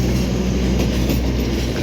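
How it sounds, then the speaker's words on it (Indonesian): The Argo Lawu passenger train, hauled by locomotive CC286-1510, rolls past close by at Lempuyangan, Yogyakarta, a steady loud low rumble of wheels and cars with no pauses throughout. "Kereta api Argo Lawu kelas eksekutif dan luxury dengan lokomotif CC286-1510 di Poido Yogyakarta, melintas Lempuyangan"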